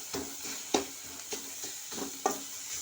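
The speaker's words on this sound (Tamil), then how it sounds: "இது பாருங்கள், தக்காளி வேகமாக வதங்கிட்டு பார்த்தீங்களா?" Tomatoes sautéing in a pan for a mackerel fish curry: a soft, steady sizzle with several scraping stir strokes at a loose, uneven rhythm, close and moderately quiet, with no voices.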